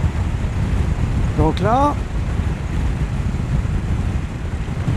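A 2022 KTM Super Duke 1290 GT motorcycle cruises on a dry road, its steady roar buried in heavy wind rush against the microphone, while a rider speaks briefly near the start.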